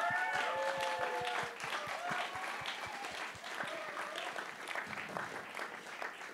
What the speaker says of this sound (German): lass uns mal unseren Technikern Applaus geben